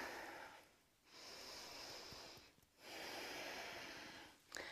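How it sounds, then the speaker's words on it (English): Slow, deep breathing during a yoga stretch, with two long airy exhales close to the microphone separated by quiet pauses, soft and intimate with no talking. "Take a deep breath."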